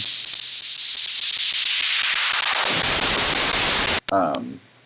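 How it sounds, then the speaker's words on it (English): A loud synthesized hiss of white noise sweeps downward as a filter closes, leaving a low rumble, then a short burst and a voice at the end. "This is the white noise. This is with the filter wall up and down."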